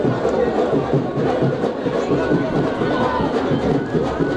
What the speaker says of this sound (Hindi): भारी भीड़ आप देख रहे हैं